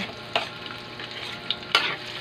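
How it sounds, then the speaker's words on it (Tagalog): Leftover oil from frying tofu sizzles steadily in a pan as chopped onion and garlic sauté, with a couple of scraping stirs of a spatula, close by. "Ito po yung mantika na tira natin pag prito ng tokwa. Kaya dito na tayo magdigisa ng puso."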